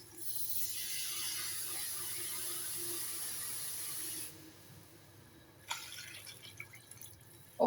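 Water is poured into a cooking pot for a Hong Kong–style braise of dried scallops, a soft steady hissing pour for about four seconds, then quiet with a few faint drips and small clinks.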